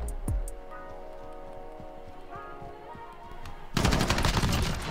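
Gunfire from the Rust video game: a sharp shot at the start, a steady game background hum, then a dense loud burst of rapid fire near the end.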